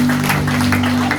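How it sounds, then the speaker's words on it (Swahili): A church congregation claps together for a brief, steady burst, with sustained keyboard tones humming underneath. "pigeni makofi tena"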